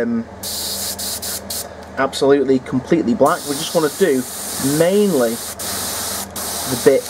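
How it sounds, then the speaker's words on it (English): An airbrush sprays black metallic paint onto a Warhound Titan model in short and long bursts of sharp hiss, with someone talking over and between them. "Sorry about the airbrush noise"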